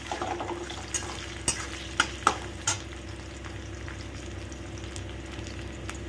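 Chopped onions fry with a pinch of salt in a pan over a low flame, a steady close sizzle broken by a few sharp clinks of a spoon stirring against the pan.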